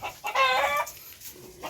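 A chicken gives a short, close cackling cluck, a single loud burst followed by quieter farmyard background.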